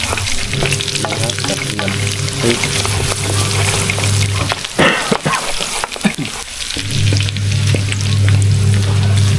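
Garlic stir-frying over high heat in a hot pan, a loud continuous sizzle with scraping strokes of a spatula and a brief burst of louder spattering midway.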